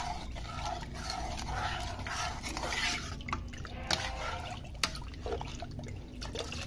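Cornflour mixture for kunafa is stirred in a bowl, giving soft, continuous liquid swishing and sloshing up close with a couple of light taps of the utensil. No one talks over it.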